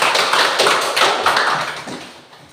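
A classroom group bursts into loose, continuous hand clapping, dense overlapping claps that are loud and close before tapering off toward the end.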